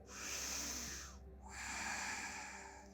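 Two deep, audible breaths during a yoga session, a long airy intake and exhale, then another, close to the microphone and fairly quiet.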